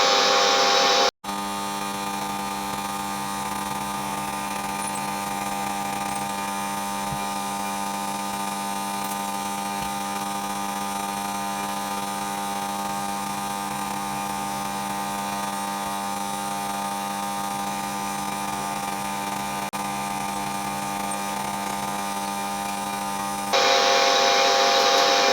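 A metal lathe with a homemade fixed steady runs continuously at 330 RPM, giving a steady, close mechanical hum with a strong tonal drone that holds evenly before cutting out near the end.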